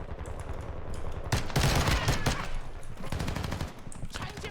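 Rapid, spammed fire from an X12 pistol in a shooter game, a dense run of close, loud shots with a brief lull partway through, over a busy game background.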